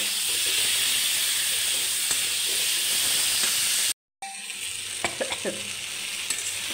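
Food frying in a pan during cooking: a loud, continuous sizzling hiss that cuts out briefly, then resumes more quietly with a few clinks and stirring noises.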